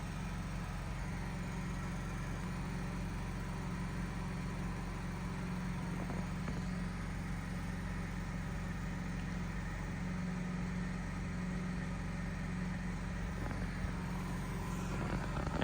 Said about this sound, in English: Generator is running.